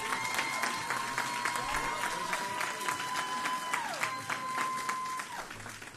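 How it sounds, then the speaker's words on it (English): A city audience applauds young ladies at an oratorical contest with steady, moderately loud clapping, as crowd murmur and a sustained tone run beneath it. "Once again, give these young ladies a round of applause."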